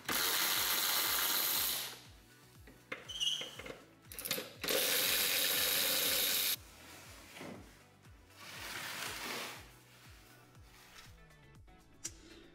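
A hand ratchet clicks in quick repeated strokes, loosening 10mm bolts on the transmission cover of a Toyota GR86, with louder bursts of mechanical noise in between and no talking.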